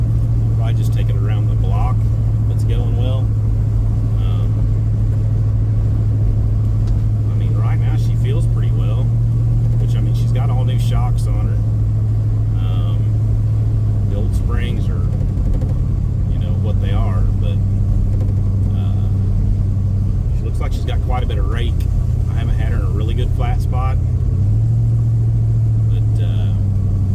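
An Avanti car on its first drive around the block after work, its engine a loud, steady low hum that shifts pitch a few times, with people talking inside the cabin throughout.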